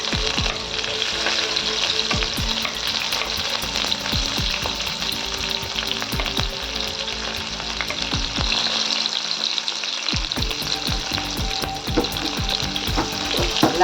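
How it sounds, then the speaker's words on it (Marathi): Cumin seeds, onion and green chilli frying in hot oil, a loud continuous close sizzle with dense crackling pops throughout, a brief dip partway through before the hiss returns at full strength, no voices. "यात टाकूया 1 छोटा चमच जिरे. छान तळतळू देऊया. यात टाकूया कांदा, मिरची,"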